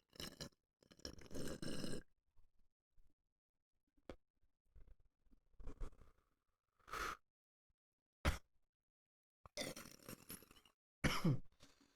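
A few scattered bursts of coughing and throat clearing come and go, close and fairly loud, separated by quiet gaps, with no talking over them.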